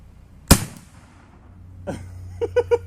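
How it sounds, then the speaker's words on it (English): A .308 rifle round loaded with fine black powder fires in one sharp, loud report outdoors, followed by a quieter thump and a few rapid light pops. "All right, I'm firing already."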